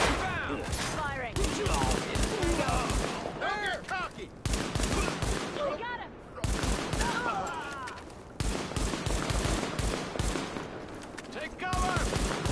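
Loud, dense gunfire from a Tom Clancy shooter game, with rapid volleys and machine-gun bursts that keep going in long stretches and break off only briefly. Voices talk over the shooting.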